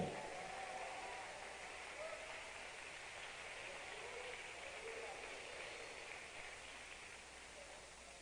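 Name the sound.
congregation applause in church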